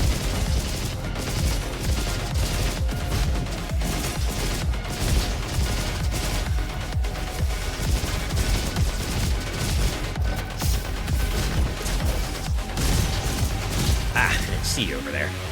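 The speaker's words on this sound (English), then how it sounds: "Oh, that's a Tesla rifle." Tesla rifle firing in the video game Roboquest, a dense, steady stream of rapid electric gunfire running the whole time alongside other game noise, with a voice talking over it.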